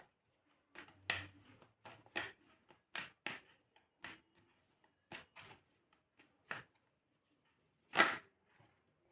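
Tarot cards being shuffled and drawn from a deck, a series of quiet, sharp riffling snaps and flicks at irregular intervals, close and soft against near silence, with one louder burst near the end.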